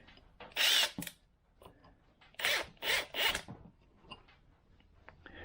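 A power drill runs in several short, loud bursts at close range while a Lowrance Skimmer transducer is being installed, with quiet gaps and small mechanical clicks between bursts.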